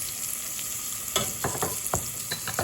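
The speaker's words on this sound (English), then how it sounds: "we want to saute these onions" Onions sauté in a pan with a little butter, making a constant close hiss, joined partway through by a run of stirring scrapes and taps; no voices.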